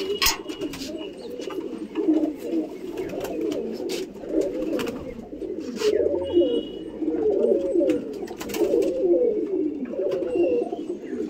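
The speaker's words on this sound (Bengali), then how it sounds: "পায়রা দেখুন" A crowd of pigeons in a loft keeps up a thick, rolling chorus of low coos up close, punctuated by scattered taps and wing rustles.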